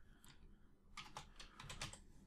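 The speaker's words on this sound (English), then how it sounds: "That's a lot of typing." Rapid clicks of a computer keyboard as someone types code, soft keystrokes in quick uneven bursts close by, with no talking.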